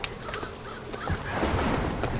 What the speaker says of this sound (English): They got bopped by crows just now.